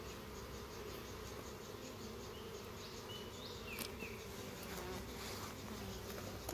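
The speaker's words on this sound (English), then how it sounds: "I have bees all over me." Honey bees swarm around an open beehive during a hive inspection, a steady, dense buzzing drone close by that holds throughout with brief louder passes of single bees near the microphone.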